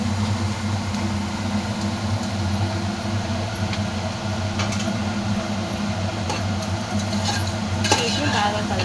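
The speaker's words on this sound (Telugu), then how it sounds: "వీటిని బాగా కలుపుకోవాలి." A pot of vegetable soup seasoned with turmeric and salt is stirred steadily, a spoon scraping and clinking against the pot over a constant low cooking rumble with no talk.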